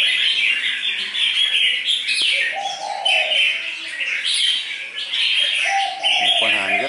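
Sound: red-whiskered bulbuls singing

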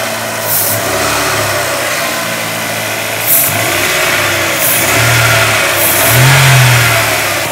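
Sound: car engine revving then idling

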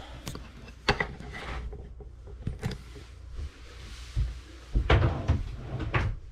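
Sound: shower door being opened and closed

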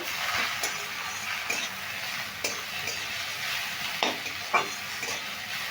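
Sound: potatoes and onions frying and stirred in pan

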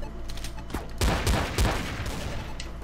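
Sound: gunshot headshot in video game Counter-Strike: Source

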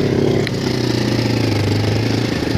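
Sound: tractor engine approaching from behind

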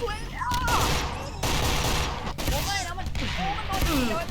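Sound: gunfire from video game Monster Hunter

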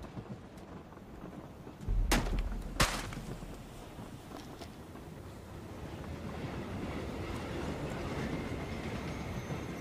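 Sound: moving train in video game PUBG, Vikendi map

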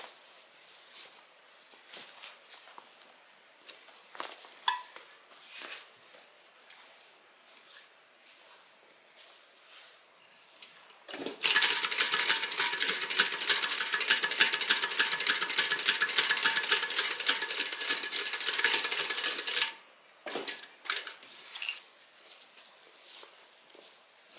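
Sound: sewing machine stitching a beverage bag

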